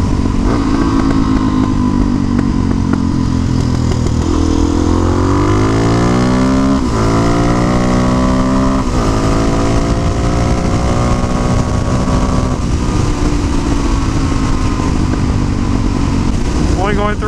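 A Suzuki motorcycle is ridden at speed, its loud engine climbing repeatedly through gears in rising, falling sweeps, with wind rush and what sounds like a voice underneath.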